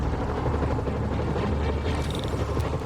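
A helicopter in Marvel's Spider-Man video game gives a steady, loud rotor drone that holds for about three seconds, with no voices.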